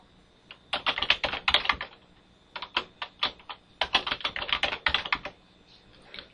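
Fingers type an email address, username and password on a computer keyboard, producing quick clusters of crisp, close key clicks separated by short pauses.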